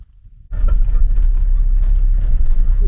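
A car climbs the road up Mount Sarabit in Sinai toward the temple, its engine rumbling in close and steady after a brief quiet start, with low road noise filling the rest.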